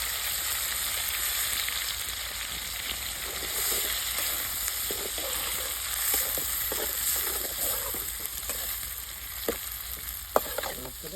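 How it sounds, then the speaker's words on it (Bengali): Onions frying in a pan for a pangas fish curry, a continuous close sizzling hiss with occasional soft stirring scrapes and a sharp clink near the end, no voices. "পেঁয়াজটা তো ভাজাও"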